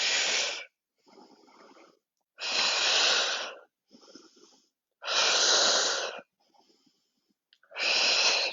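Deep breaths during a yoga strength workout come close and clear: four long, loud hissing exhales alternate with softer, shorter inhales in a slow, even rhythm.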